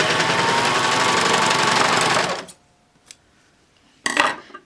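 A serger fitted with a cording foot runs in a fast, steady whirring buzz for about two seconds and then stops abruptly. After it stops, a few faint clicks follow, then a brief rustle.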